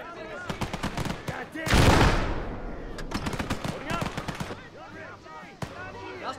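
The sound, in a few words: machine gun fire in video game Gates of Hell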